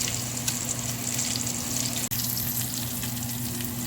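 Salmon sears in a hot pan, crisping on the bottom with a steady, close sizzle and a low hum underneath, no one talking.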